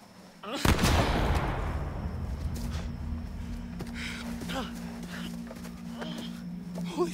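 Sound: gunshots in the video game The Quarry

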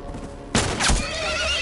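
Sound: horse neighing in video game The Last of Us

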